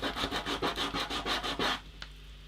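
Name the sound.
folded sandpaper sanding watercolour paint off paper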